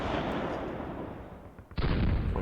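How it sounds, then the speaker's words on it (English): Sherman Firefly tank guns firing in the Panzer Campaigns Normandy 44 war game, a sustained booming rumble followed by a sudden sharp, loud report near the end. "Let's actually fire with the Fireflies first. At these guys running away."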